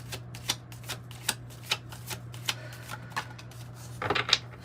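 Tarot cards are shuffled by hand at close range in a quiet room, with soft regular riffling flicks about every half second and a denser flurry of card snaps near the end, under a low steady hum.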